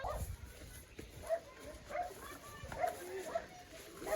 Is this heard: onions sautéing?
no